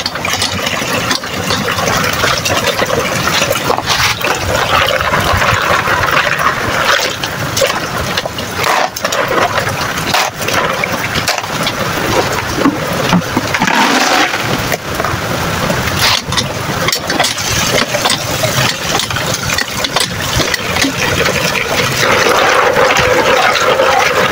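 Water runs steadily as snails are rinsed before being blanched in hot water, a continuous loud hissing wash with splashing that lasts the whole stretch, no talking.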